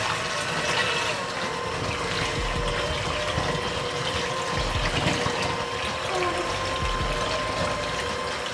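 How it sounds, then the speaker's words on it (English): An electric mixer whirs continuously while mixing instant pudding, giving a steady close drone with faint watery churning and no talk. "Now you're just gonna mix it with your mixer."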